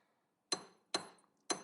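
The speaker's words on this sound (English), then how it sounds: "You're also going to want to hammer these out flat." Hammer striking thin jewelry metal to flatten it, three sharp metallic taps with a bright ringing edge, spaced about half a second apart, close and clear.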